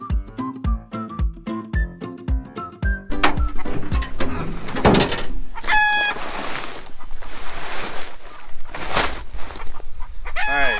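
Chickens on a farm cluck and crow in the middle and end of the clip, with short sharp fowl calls over a busy outdoor background.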